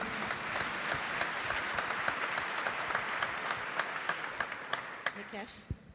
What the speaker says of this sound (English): I expect more applause